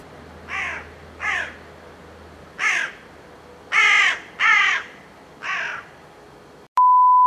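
A crow flies overhead above a garden greenhouse and caws six times in spaced, harsh bursts, clear and fairly close, followed by a sudden steady electronic beep.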